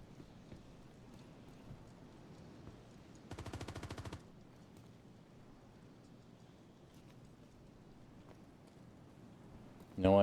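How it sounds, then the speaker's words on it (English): A single short burst of rapid automatic weapons fire in a space combat video game, about a second long, crisp against a quiet background hum, followed by a louder thump at the end. "No idea where that weapons fire came from."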